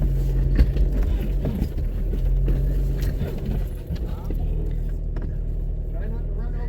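A vehicle crawling slowly over the rocky Pumpkin Smasher off-road obstacle course, its engine a low steady rumble with tyres crunching and scraping over stones, close and continuous under occasional voices.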